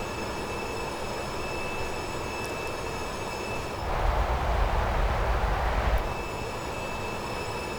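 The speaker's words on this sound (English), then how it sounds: "And the train's coming up" A train rumbles past for a few seconds, a broadband roar swelling over steady background noise and then dropping away, heard within an MD-11 flight simulator session.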